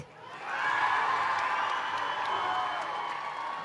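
Crowd cheering and whooping at a FIRST Tech Challenge robotics state championship in Michigan: a broad, sustained roar of many voices that swells quickly and holds steady, loud and close throughout.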